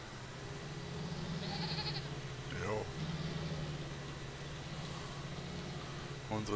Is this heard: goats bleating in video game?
yes